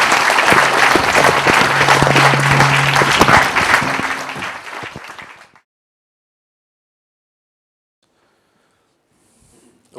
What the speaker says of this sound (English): Can I have a round of applause for Alan?